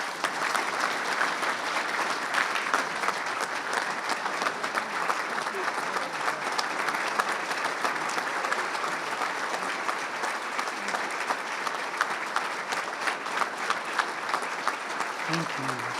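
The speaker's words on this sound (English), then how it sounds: "So please join me in giving a big round of applause to Dr. Glenn Poshard." A large audience at a dedication ceremony for a university technology education center gives long, sustained applause, a thick and steady wash of clapping that stays loud for the full length, with a voice starting right at the end.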